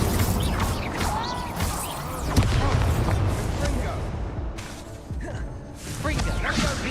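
Crackling, whooshing fire blasts of the Incendio spell in Hogwarts Legacy combat, repeated loud bursts with crashes and impacts, voices speaking over parts of it.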